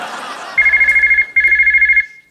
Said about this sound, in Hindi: ओ मम्मी का फोन।